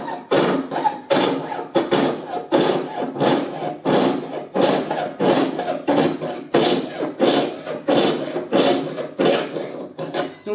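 A metal plate is cut by hand with a hacksaw, a close, loud rasping stroke repeated in a steady back-and-forth rhythm, roughly two strokes per second, with no talk.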